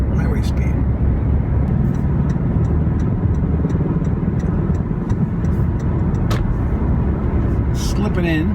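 A Toyota Prius Prime accelerating up to highway speed: a loud steady roar of road and wind noise inside the cabin with a low engine hum, while someone talks over it.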